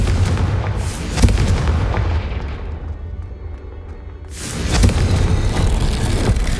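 A Confringo fire spell going off in Hogwarts Legacy, a loud fiery burst with a sharp crack near the start, a rumbling tail that dies down, then a second heavy blast around the five-second mark followed by sustained roaring.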